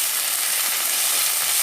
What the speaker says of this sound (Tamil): இஞ்சி பூண்டு பேஸ்ட் போட்டதுக்கப்புறம் நல்லா இன்னும் கொஞ்சம் நல்லா இஞ்சி பூண்டு பேஸ்ட் நல்லா வதங்க விட்டுடலாம்